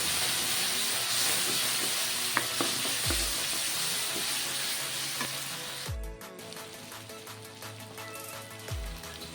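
Garlic paste fries in an oiled pan for a fish dish, with a loud, continuous sizzle and hiss. A spoon scrapes and knocks against the pan every few seconds as it is stirred, all close up and without talk.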